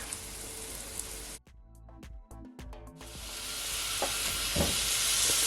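Pork dropped into a hot pan for Jamaican curry stewed pork gives a loud, steady hiss of sizzling that swells and continues, broken by a brief quieter stretch.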